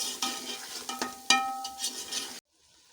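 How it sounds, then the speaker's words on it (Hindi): Nihari masala being stirred into meat in a pot, giving a steady scraping, sizzling stir with a few sharper utensil clicks over about two seconds before stopping abruptly. "अब हम इसमें निहारी मसाला डालेंगे। इसको अच्छी तरह मिक्स कर लेंगे।"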